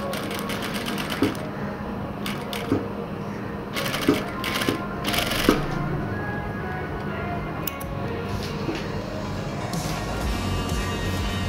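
A sewing machine stitches pleats on a trendy pleated bottom, running steadily at close range with a continuous rapid mechanical chatter, broken by a few brief louder bursts and clicks.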